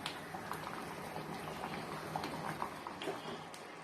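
Vegetable kurma simmers on the stove, a steady close bubbling and popping of thick liquid with occasional louder blips and no talking.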